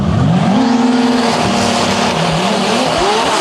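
Drag race cars roar loudly down the strip toward the finish line in a DCT World Cup qualifying run, with engine pitch rising and shifting and a steady, dense howl filling the whole stretch.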